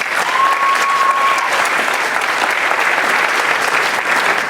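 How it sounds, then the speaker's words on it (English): A crowd at a high school senior awards evening applauds, a dense, steady wash of clapping from many hands throughout, with a faint tone briefly audible over it. "If we could give them a round of applause."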